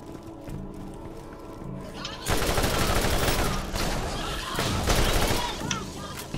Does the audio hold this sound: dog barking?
no